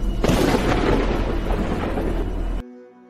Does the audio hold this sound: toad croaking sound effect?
no